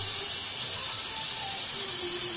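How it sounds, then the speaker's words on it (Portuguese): A pressure cooker with beef ribs inside hisses steadily on the stove, a continuous airy spray of steam at moderate level with no talk over it. "Agora eu vou deixar a costela aqui, ó, cozinhando na pressão por 40 minutos."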